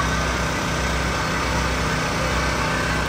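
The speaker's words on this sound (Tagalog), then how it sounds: "Lakas yung generator." Loud generator droning steadily at an outdoor Filipino night market on St Clair West, a constant engine hum with a busy high whine that fills the whole stretch without letup and no clear talk.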